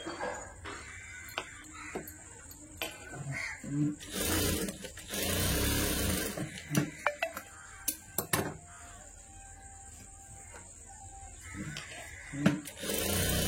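A sewing machine stitches a blouse in irregular short bursts of mechanical whirring, close and fairly quiet, separated by pauses.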